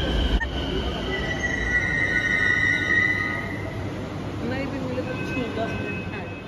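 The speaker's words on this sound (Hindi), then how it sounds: "इधर से हमारी भी मेट्रो आ गई है" A metro train pulls into a station with a long, high metallic wheel squeal over a steady rumble of rolling carriages. Faint voices murmur in the background.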